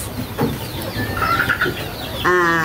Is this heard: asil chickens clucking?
yes